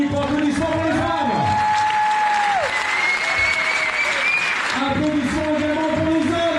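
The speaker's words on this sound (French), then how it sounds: "Pour applaudissements pour les femmes." A crowd at the Trail de Minuit night race in 2024 applauds for the women runners with continuous loud clapping, while tonal cries and a voice rise over it.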